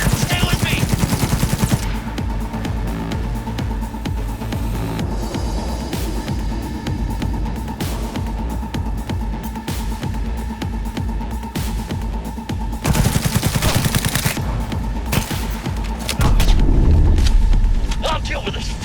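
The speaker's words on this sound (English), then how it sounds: "Under heavy fire!" Heavy sustained gunfire in the video game Cyberpunk 2077: dense automatic bursts and loud shots run continuously for the whole stretch under a game soundtrack, with a louder burst near the end.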